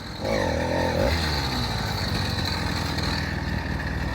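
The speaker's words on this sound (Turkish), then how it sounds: "Ali abi geliyor şu an motorla uğraşıyor çalıştırmaya" A small motorized bicycle engine catches after a short start, then settles into a loud, buzzing, steady putter close by, running on without a break.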